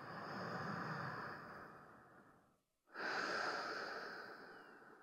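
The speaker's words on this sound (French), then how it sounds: "On va prendre ici 3 profondes respirations." Deep breaths during a winter vinyasa yoga session, one long inhale and one long exhale separated by a brief pause, close and airy, with no talking.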